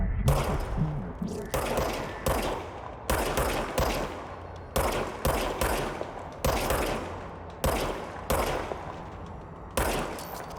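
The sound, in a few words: gunfire from the service weapon in the video game Control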